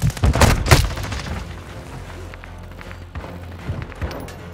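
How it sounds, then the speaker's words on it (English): A stun grenade detonates in Call of Duty, a loud cluster of sharp bangs up front that fades into a low rumbling tail of distant game combat noise. "Stun grenade."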